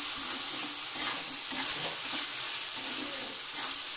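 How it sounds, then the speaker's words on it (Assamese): Mutton with mutton masala spices frying in a pan, a continuous soft hiss and sizzle with faint stirring rustles, no talking. "এইখিনি পটাপট লৰাই পেলাই ভাজি লওঁ"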